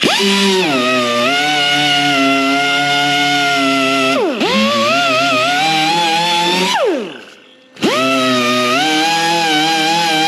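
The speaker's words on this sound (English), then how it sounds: "I like to go back over when I've done any grinder work with one of these kind of sandpapery pads. Get a Scotch-Brite pad" A power tool spins an abrasive Scotch-Brite style pad over ground metal on a Dodge Challenger body panel. The close, steady, loud motor whine winds down twice and spins back up, with no talk.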